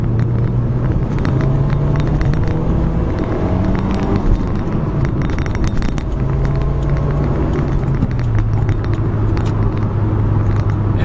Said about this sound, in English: we can definitely give it a little bit of power through the gears here